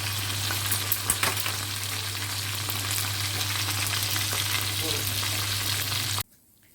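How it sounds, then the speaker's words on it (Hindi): Chicken cooking in a pan over a medium flame, a steady loud sizzle with stirring scrapes and a constant low hum, cutting off abruptly near the end. "इसको मैं फिर दोबारा ढक के मीडियम आंच पे पकाऊंगी"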